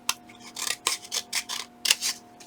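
Scissors make a series of crisp snipping cuts through paper craft scraps, about eight quick close-up chops in an uneven rhythm, with no voices.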